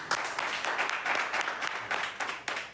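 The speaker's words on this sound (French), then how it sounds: "Applaudissons pour Axel Mérine, s'il vous plaît." An audience applauds in a dense, even patter of many hands clapping, fairly faint and distant, lasting a few seconds without clear talk.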